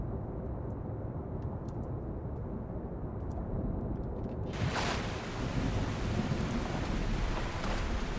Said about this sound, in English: Why does this have to happen on such stormy seas?